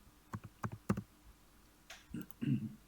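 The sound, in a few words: computer mouse double-click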